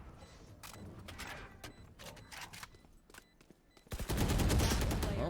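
Gunfire in a competitive shooter video game: a string of sharp single shots cracks across the first few seconds, then a dense, loud burst of fire takes over near the end.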